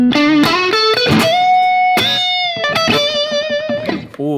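Electric guitar played solo, opening phrase of a song's guitar solo: sliding, bending lead notes that sustain with mild overdrive, a rising line followed by long held bends and a quick flurry at the end.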